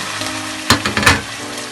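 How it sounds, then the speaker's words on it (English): Green chilies dropped into a hot pan of oil and spices, giving a short burst of loud sizzling and stirring that stands out above a steady low cooking hiss. "At this time, you add the green chilies into it."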